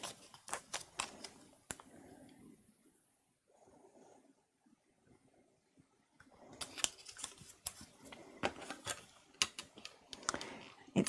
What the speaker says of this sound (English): let's die cut these out